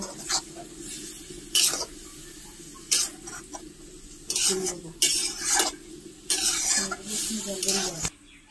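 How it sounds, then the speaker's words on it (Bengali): Grated coconut being stirred and dried in a hot pan over a newly lit stove for coconut sandesh, with soft sizzling and bursts of scraping from a utensil against the pan, repeated in short irregular strokes. "নারকেলের মধ্যে যে জলটা আছে হালকা করে সেই জলটা একটু শুকনো করে নেব"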